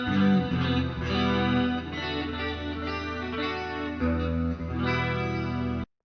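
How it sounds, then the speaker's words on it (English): Clean-toned electric guitar from an EET FUK replica (MX220), ringing chords with a chorus-like shimmer, several sustained strums that overlap and fade, close and loud with no voices, cutting off abruptly at the end. "Clean tones are good as well."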